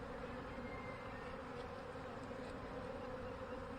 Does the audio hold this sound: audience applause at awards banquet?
no